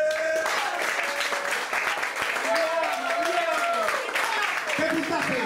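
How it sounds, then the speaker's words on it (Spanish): A stand-up comedy audience applauds Italian style, with steady crowd clapping mixed with cheers and voices calling out, loud and sustained across the room. "¿Cómo se aplaude en Italia?"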